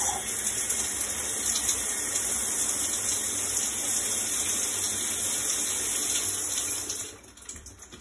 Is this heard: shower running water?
yes